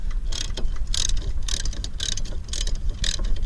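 A wrench ratchets in loud, rhythmic clicking strokes while loosening a tight 9/16 inch blade bolt on a John Deere JS35 mower, heard close and steady over low background noise with no talk.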